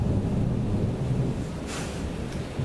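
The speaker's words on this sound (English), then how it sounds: "You might be able to hear that wonderful thunderstorm that we've got going on out there" A summer thunderstorm rumbles outside an open window, a deep, continuous low roll with rain hiss and a brief brighter crack partway through, steady and moderately loud without any voices.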